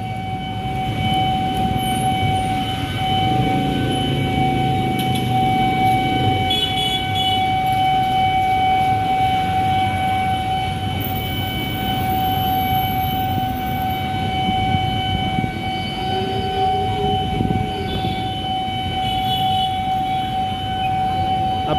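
KRL commuter train near a level crossing in Jakarta, a steady sustained horn tone holding throughout over continuous rumbling rail noise, loud and close, with no talking.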